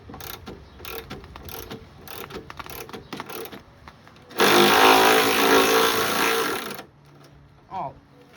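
A ratchet working on a gas tank bolt, a series of close, crisp clicking strokes followed by a loud sustained rasping burst of rapid clicks, then a short final ratchet pass, with a voice talking around it.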